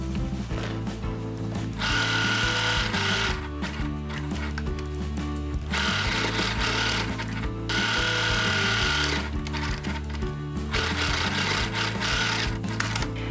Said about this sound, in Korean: 만들어진 주머니를 가방의 안쪽 면, 안감에다가 대고 살짝 봉제해서 고정을 시켜줄게요.